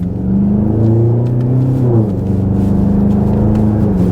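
A BMW X6M with its muffler deleted drones loudly from close by, its engine note rising under throttle, then dipping at a gear change and settling into a steady rumble.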